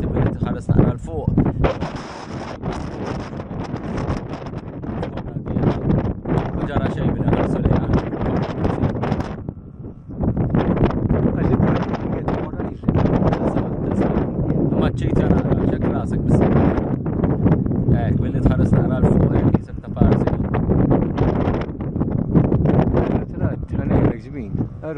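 Strong wind at Dingli Cliffs buffets the microphone in loud, rumbling gusts, nearly constant with a brief lull, with a voice speaking now and then beneath it.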